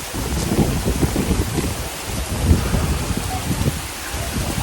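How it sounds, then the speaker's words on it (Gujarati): Wind-driven rain pours down steadily at Dumas beach, a dense close roar of drops on surfaces with gusty low rumbles from the thunderstorm throughout. "પવન, જો પવનની સાથે વરસાદ આવે છે."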